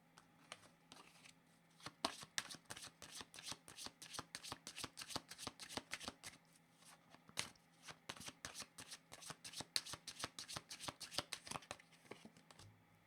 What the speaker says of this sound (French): Le temps que je récupère toutes les cartes.